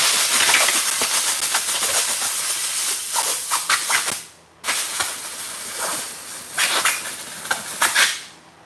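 Carb cleaner sprayed on parts of a Stihl FS 90 R string trimmer during servicing: two loud, steady hissing bursts, the first lasting about four seconds, then a brief pause and a second long spray with sputtering near the end.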